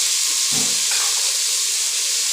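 Chopped, peeled potato goes into a hot pan of frying rice, giving a sudden burst of sizzling and clatter over a steady loud hiss of oil.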